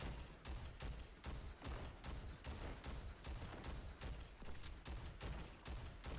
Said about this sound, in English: he can shoot this machine gun